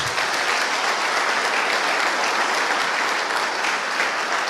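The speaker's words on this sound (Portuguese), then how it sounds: "Vamos aplaudir o nosso Deus bem forte." Loud, dense applause from a church congregation at a family worship service, sustained and even throughout without a break.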